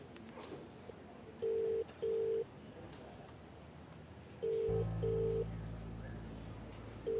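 Phone call placed on speakerphone: a handful of DTMF keypad tones in two pairs, followed by a steady dial or ringback tone, heard fairly clearly over quiet room ambience.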